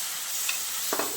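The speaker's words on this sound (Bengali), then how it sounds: "দিয়ে একটু ভাজা ভাজা করে নিচ্ছি, যাতে বিটের কাঁচা গন্ধটা না থাকে।" Ground beetroot fries with spices in a pan, making a short burst of hissing sizzle with a couple of quick stirring scrapes.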